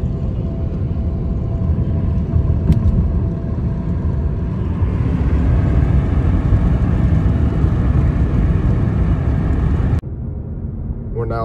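A car driving along a coastal highway near Duncan Mills, a loud steady engine and road rumble heard from inside that dips briefly near the end.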